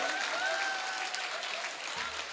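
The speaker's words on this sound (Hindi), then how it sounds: "ताली ढंग से बजाओ" Audience applause fills the room, a dense, steady wash of many hands clapping at close range that holds at an even level for its whole length, with no spoken words.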